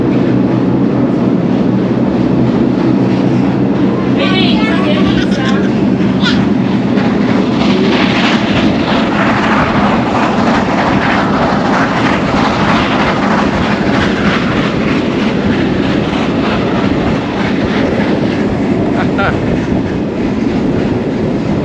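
An old retro train on the Osielec–Chabówka line in Poland rumbles steadily along the rails with a rattling, clattering roar and wind noise, loud and continuous, with faint voices underneath.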